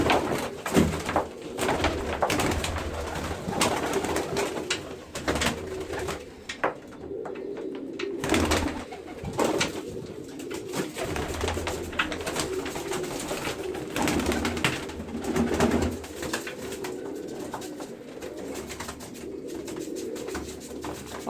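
Domestic pigeons cooing steadily inside a cage, soft repeated throaty coos overlapping close by with occasional wing and cage rustles, no speech.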